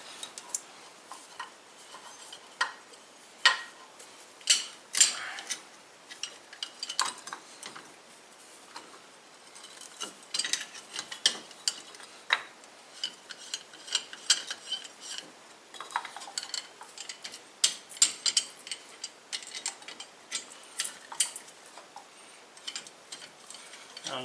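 A clamp is cranked to compress a brake caliper piston on a 2003 Chevy Blazer, scattered quiet metallic ticks and clinks with irregular close taps throughout.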